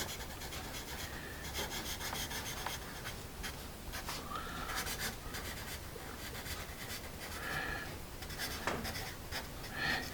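A Staedtler Norica pencil scratches across paper close up, a continuous slightly rough rasping of writing strokes over about ten seconds, heard alone with no talk.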